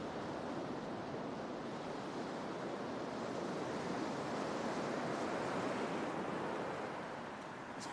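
Sea waves washing onto a shore at Acapulco in the morning, a steady broad roar of surf close by with no pauses, loud and continuous throughout with no voices.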